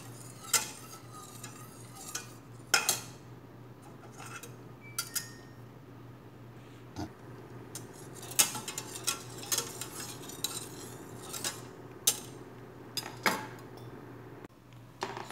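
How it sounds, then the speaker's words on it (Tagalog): Fruity jelly mixture stirred in a pan as it heats toward a boil, with scattered utensil clinks and scrapes against the pan over a low, faint bubbling, close by and without speech. "haluin natin ng haluin para hindi siya magbuo-buo"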